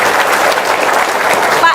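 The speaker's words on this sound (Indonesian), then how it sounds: "Yes, tepuk tangan dong." Applause from an audience at an inspirational talk, a loud wash of clapping that stays steady and full through the short stretch.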